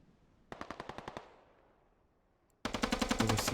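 Machine-gun bursts in a video game firefight: a rapid string of about eight sharp shots fading into a reverb tail, then a louder, denser burst of automatic fire up close, with no talking.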